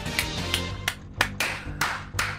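Hands clap in a quick run of sharp bursts, each a little apart, close and fairly loud, with no talk over them, during a Polish gaming stream.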